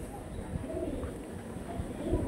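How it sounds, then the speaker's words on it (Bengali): Small Andhra pigeons coo softly and low in a close, quiet setting, the murmuring calls rising and falling over faint background hum. "এই হচ্ছিল মাদিটা, একদম ছোট্ট সাইজের পায়রা।"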